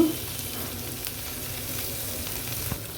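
Eggs coated in turmeric, ginger and garlic frying in a pan, a steady close sizzle with a few light stirring clicks and scrapes, no voices.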